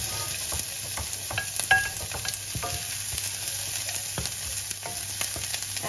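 Onion sautéing with ginger in a pan, a bright continuous sizzle with scattered spatula scrapes and light clicks, close and steady, no talking.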